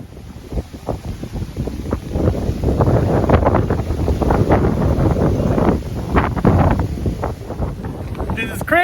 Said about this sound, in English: I can hear the fucking wind blowing hard outside, and it hasn't stopped.